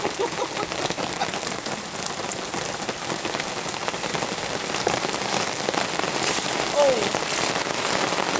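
Heavy rain hammers down on a camp trailer and its awning during a January storm at a coastal Oregon campsite, a dense, loud, continuous patter with scattered sharper drops.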